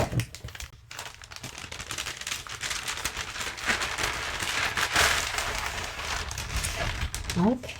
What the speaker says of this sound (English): let's go ahead and open the box